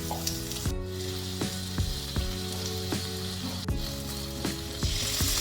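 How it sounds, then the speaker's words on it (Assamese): Onion and capsicum fry over high flame, a steady close sizzle with regular spatula scrapes against the pan throughout. "পিঁয়াজ আৰু কেপচিকাম দিছোঁ অকণমান হাই ফ্লেমত ভাজি ল'ব লাগিব"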